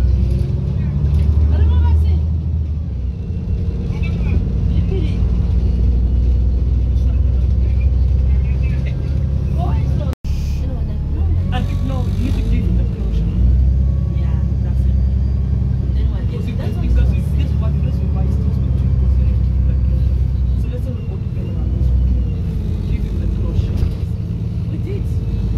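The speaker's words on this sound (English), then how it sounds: "15:49 will be our bus to White Rose today, one of the ex-Northeast DB300s." An ex-Northeast DB300 bus carries passengers toward White Rose, its engine a steady loud rumble with rattles and road noise throughout the ride and voices talking faintly underneath.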